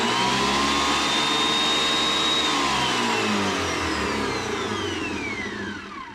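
A Rikon helical wood planer runs idle with a steady, loud motor whine and hum, a rising tone shifting partway through before the sound starts to wind down at the end.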